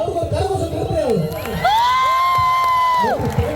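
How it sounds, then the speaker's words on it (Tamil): A large crowd cheers and whoops for Bala at a packed outdoor concert in Sri Lanka with South Indian singers; loud, dense shouting with rising and held vocal calls over the general roar. "நீங்க அவருக்கு ஒரு கரகோஷம் கொடுத்தே ஆகணும்."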